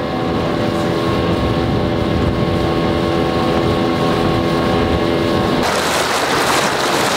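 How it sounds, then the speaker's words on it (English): A boat motor drones steadily on the water, loud and close, with wind buffeting the microphone and a shift in tone near the end. "That's the boat."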